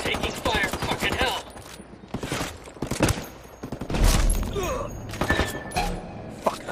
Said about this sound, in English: Hostiles are going loud. Taking fire.